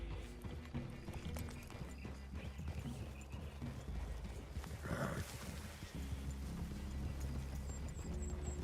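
Horse hooves clip-clop steadily in the video game Red Dead Redemption 2, over a low, continuous outdoor ambience, with a brief louder rustle in the middle; no one speaks.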